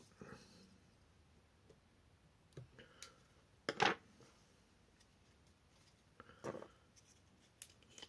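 Scissors snip fly-tying thread once at the tying bench. The cut is a short, crisp click that stands out against near silence, with a few faint handling taps before and after.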